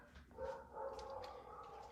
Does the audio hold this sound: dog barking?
yes